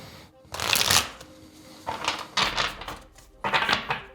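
Tarot cards shuffled by hand in three separate bursts of crisp riffling, close and fairly loud, with short quiet gaps between.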